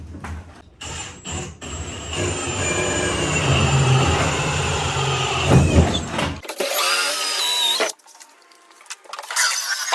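An electric drill bores holes in a plastic trash can, a sustained whining grind with rattly vibration that stops abruptly, followed by a shorter high-pitched burst and scraping, close and loud.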